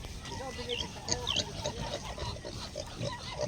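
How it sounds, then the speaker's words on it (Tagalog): Native pigs on a farm give low grunts and squeals under a steady outdoor background, with people talking at the same time. "Baboy guys."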